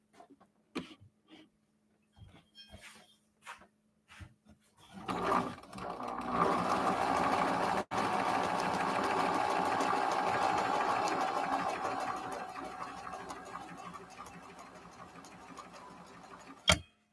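A sewing machine with a thread tension problem runs steadily and fairly loudly for about twelve seconds, a dense mechanical whir with a faint dragging quality. A few soft clicks and taps come first, and one sharp knock breaks the run midway.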